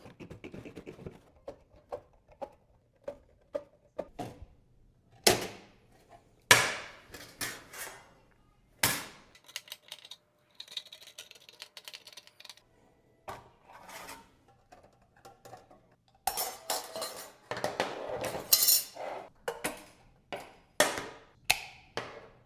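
Snips cut around the outside circle of a sheet metal china cap, giving sharp, irregular clicks and crunches in bursts with short pauses, close and fairly quiet.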